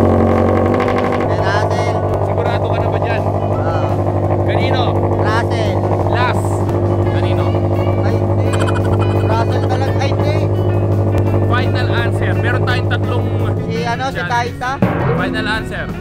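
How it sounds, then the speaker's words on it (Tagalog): A car engine runs steadily and loudly nearby with a constant low drone, while voices chatter over it and someone is asked to guess whose car it is by its sound. "Papakinggan mo, King, kung kaninong kotse to."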